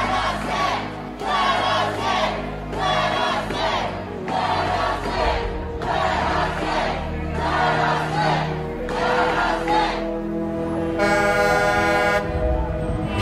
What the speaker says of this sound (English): I want to move out of the way and show you a look at this crowd, at least a couple thousand people here